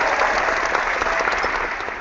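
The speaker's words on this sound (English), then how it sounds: "Let's have a round of applause for this weirdo." A studio audience breaks into a dense, steady round of applause, loud and continuous from start to finish with no talking over it.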